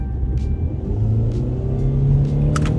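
A car set to Sport Plus mode accelerates with a deep, continuous engine rumble that rises steadily, heard close from inside with no voices over it.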